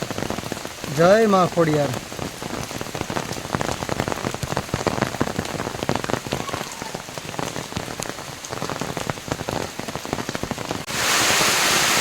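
Heavy downpour at Uparkot Fort in Junagadh, a dense, steady hiss of rain on surfaces throughout, with a brief chanting voice near the start and a louder wash of rain at the end.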